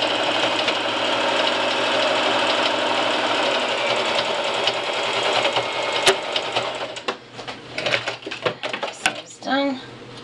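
A sewing machine back stitches a prefold cloth diaper, running in a steady fast mechanical whir that breaks into short stop-start bursts and clicks near the end; the stitching plays alone.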